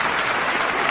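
Brief burst of audience applause for a singer guest on an Italian talk show, dense and loud, with no talk over it.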